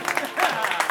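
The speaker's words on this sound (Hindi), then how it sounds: "इनके सम्मान में एक बार जोरदार तालियां बजा दें आपने।" Audience applause at a Jain religious play, a short burst of many hands clapping that swells midway, with some voices mixed in underneath.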